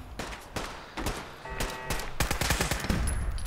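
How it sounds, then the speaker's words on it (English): Bursts of automatic fire from a Tommy gun-style .45 caliber weapon in the video game Fallout 4: short rattling volleys that grow into denser rapid fire, heard up close and moderately loud. "It's like a Tommy gun."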